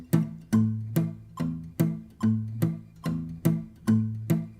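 An acoustic guitar chord strummed plainly without left-hand pulsing repeats about ten times at a steady pace, each stroke a close, full attack that rings briefly and fades, with no talking.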